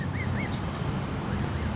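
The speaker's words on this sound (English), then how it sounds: "Mama goose." A mother goose beside her goslings gives a few short honks over a steady wash of outdoor wind or water noise, fairly loud and close.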